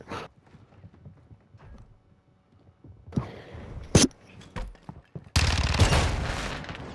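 Bursts of gunfire ring out in an inflatables-themed video game: scattered sharp shots, then a loud rapid volley near the end, with quieter clattering between.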